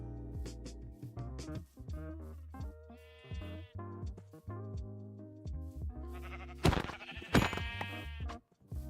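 Synthetic Minecraft sheep bleats rise over looping electronic game music, a couple of loud bleats standing out near the end.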